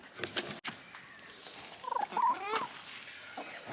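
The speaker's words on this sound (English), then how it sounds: "Never seen a chicken so hungry in all my life." Hungry backyard chicken on an Australian homestead making soft, quiet clucks and gobbling calls in a short burst, with rustling and brief handling noises around it.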